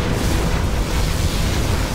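A dense, roaring particle cannon blast from Command & Conquer Generals Zero Hour, sustained and loud with heavy low rumble throughout, no voices.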